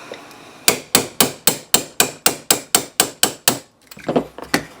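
A hammer taps a steel pin punch on a Ruger LCP pistol in a quick, even series of about fourteen sharp, ringing strikes, followed by a few softer, irregular knocks.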